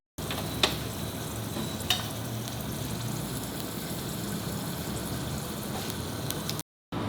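Onion frying in coconut oil over a medium flame, a steady loud sizzle throughout, with a couple of sharp clinks of a spoon stirring against the pan.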